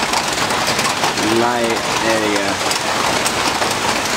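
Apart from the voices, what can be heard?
rain falling during Hurricane Irene at night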